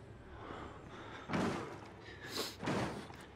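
In the horror video game Outlast, a door slams shut with a couple of heavy, muffled thuds heard against a quiet, low ambient background.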